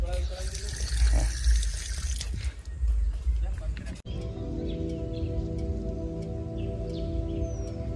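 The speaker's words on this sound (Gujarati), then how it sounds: "બધા નળ ચાલુ છે." Several drinking-water taps run at a temple hand-washing spot, a continuous splashing gush that is loud at first and then settles into a steadier trickle with drips, with people talking over it.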